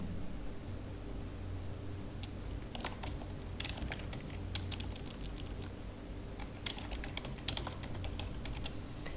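Keyboard typing on a computer during a GeneXus software demo, with steady clustered key clicks and a firmer Enter press over a constant low hum, no talking.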